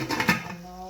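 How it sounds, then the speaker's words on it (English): Onions being stirred in a cooking pot followed by a lid set back on, a brief burst of metallic scraping and clinks ending in a short ringing tone, close and clear. "we're just stirring them a few times and then putting the lid back on"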